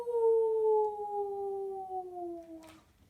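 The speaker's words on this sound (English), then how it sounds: "If the wind blows very hard, it can sound like a wild animal howling." Strong wind makes a single sustained tonal howl that slowly slides lower in pitch over a few seconds, then cuts off abruptly, heard alone and moderately loud.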